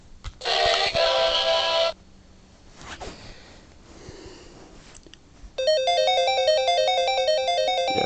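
Chiptune start music from Sonic the Hedgehog 2 on a Sega Game Gear handheld: a loud burst of bright tones, a quieter stretch of faint noises, then a steady repeating melodic pattern of square-wave notes.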